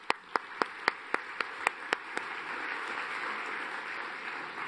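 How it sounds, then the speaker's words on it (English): An audience applauds the mayor at a children's Christmas lecture staging a Norwich 1578 pageant: about nine crisp, evenly spaced claps ring out at first, then melt into a soft, sustained wash of applause across the room. "Round of applause for the mayor."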